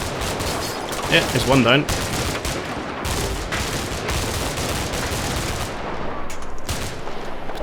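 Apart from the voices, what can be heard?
gunfire in the video game Combat Mission: Cold War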